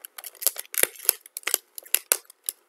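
Scissors snip through a plastic cover over a plant cutting in a series of quick, crisp, close cuts, irregular in rhythm, with no talking.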